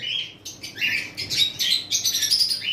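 Lutino cockatiels chirping in a cage, a steady run of bright, shrill calls close by, with some brief wing flutters and no voices.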